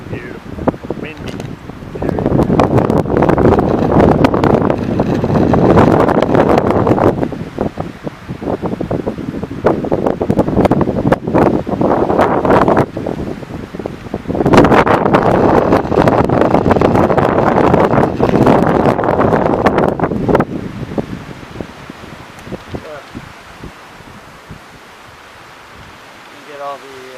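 Strong gusts of wind roar outdoors at Sleeping Giant in the backcountry, buffeting the microphone in loud, sustained surges that rise and fall before easing toward the end.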